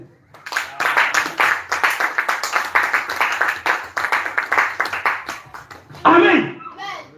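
Church congregation clapping in steady rhythmic unison for several seconds, close and lively, ending in a short burst of cheering voices.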